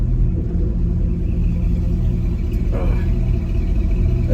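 A 1972 Nova's engine rumbles steadily and close while driving, a continuous low, heavy drone with no break across the stretch.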